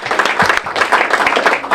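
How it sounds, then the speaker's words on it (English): An audience claps together at a storytelling event, a dense burst of applause close and loud for a short moment. "Everybody should clap at that."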